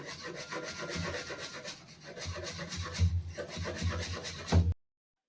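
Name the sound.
finely chopping coriander with a knife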